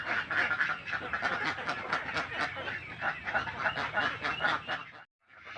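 A flock of Alabio ducks on a poultry farm quacks loudly and continuously, many overlapping rapid calls close by, ending in a brief pause.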